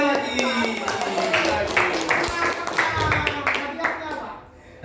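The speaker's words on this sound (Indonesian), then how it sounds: "Tepuk tangan lagi." Students in a classroom clapping, a quick scattered round of hands under a teacher's voice that continues speaking over it, trailing off near the end.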